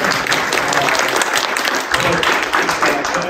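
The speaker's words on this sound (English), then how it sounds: "A round of applause for him." Applause from a meetup audience at a personal AI gathering, with steady, dense clapping filling the room at close range. It holds at an even level throughout with no voice on top.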